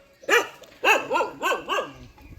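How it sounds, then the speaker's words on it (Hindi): A dog barks four times in quick succession outdoors near a village temple, each bark a sharp, moderately loud yelp with clear gaps between them. "पता नहीं क्यों भौंकने लग गई मुझ पे।"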